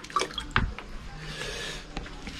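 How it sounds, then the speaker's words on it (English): Water scooped with a tabo dipper from a bucket and poured into a toilet bowl to flush it in an old bathroom, giving close drips, splashes and a wet sloshing pour. "You scoop up the water and you flush whatever you produced in the bowl."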